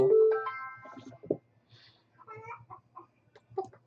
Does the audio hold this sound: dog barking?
no